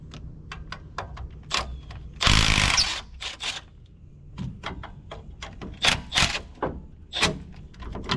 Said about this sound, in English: So let's grab our 18mm socket and get these bolts out.